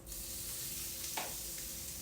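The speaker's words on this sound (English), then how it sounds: "I'm just going to pop them right into the frying pan" Chicken breasts sear in a frying pan on fairly high heat, a steady soft crackling hiss that runs throughout, with a brief brighter flare of spitting about halfway through.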